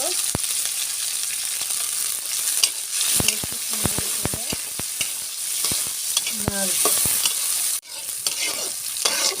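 Ginger, onion, garlic and green chili fry in a hot pan with a steady close sizzle, while a spatula scrapes and stirs in sharp clicking strokes throughout.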